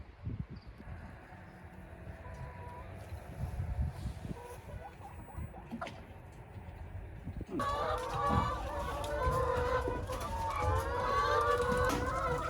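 Chickens in mobile coops on an organic farm cluck and squawk, faint and sparse at first, then a dense, busy chorus of many birds close by, with a steady low background hum throughout.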